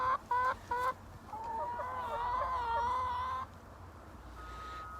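Backyard chickens cluck and make drawn-out, warbling calls close by, a few sharp clucks at first and then a longer vocal phrase, over a soft outdoor background.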